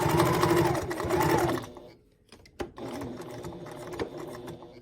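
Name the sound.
Janome HD9 sewing machine stitching a label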